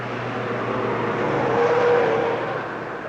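Touring race cars in the 1963 Armstrong 500, among them a Cortina GT, roaring past on the circuit, a loud continuous engine drone that swells and fades slightly, with no voices over it.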